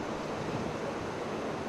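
Waves wash steadily against a marina breakwater near the docks on an Alaskan cruise, a dense, even surf roar mixed with wind buffeting the microphone, with no voices.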